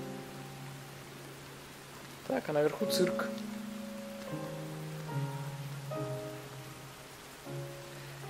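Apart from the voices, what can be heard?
heavy rain in video game Rain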